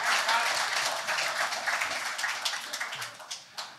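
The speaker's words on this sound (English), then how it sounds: "round of applause for Charlie." Audience at a live podcast taping applauds, the clapping fairly quiet and thinning out into scattered individual claps toward the end.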